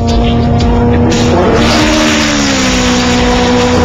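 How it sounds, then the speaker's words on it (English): VW Super Beetle with a manual four-speed gearbox on a quarter-mile drag strip, its engine droning loud and close as the pitch climbs, drops at a gear change and climbs again. "Don's got a manual transmission, which means he's got to shift through all 4 gears while doing the quarter-mile strip"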